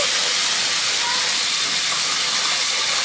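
Fresh mint leaves sizzle in hot oil with fenugreek and cumin seeds while a restaurant-style chicken curry is being made, giving a steady, loud, bright hiss that runs unbroken from start to finish with no talk.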